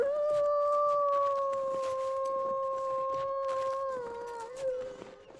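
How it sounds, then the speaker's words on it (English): A single wolf howls in a video game, one long sustained clear tone holding steady then bending downward as it fades, fairly distant and alone over faint crackling ambience. "That wolf is still around."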